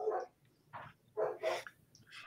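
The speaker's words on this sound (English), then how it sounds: "Those are my dogs." Several household dogs bark from somewhere in the house, one of them downstairs: four or five sharp, fairly close barks in quick succession, with faint room hum between them and no speech.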